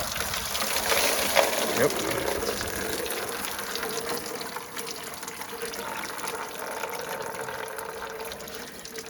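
Coolant gushes out of a hose on a 1986 Ford F150 during a system flush, a continuous splashing, trickling pour that is loudest early and then settles into a steady flow, with a brief spoken word over it.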